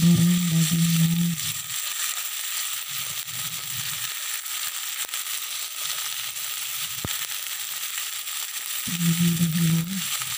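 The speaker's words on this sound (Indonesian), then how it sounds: "kita menggoreng dagingnya" Steady frying sizzle and crackle of meat in a pan, continuous and fairly loud, with a low hum coming and going underneath.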